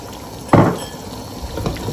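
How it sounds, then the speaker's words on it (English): Sweet and sour sauce coming to a boil in a pan gives one sudden bubbling, splashy burst, then fades to softer, intermittent bubbling. "Let it come to a boil, and then you'll see the thickness changes so quickly."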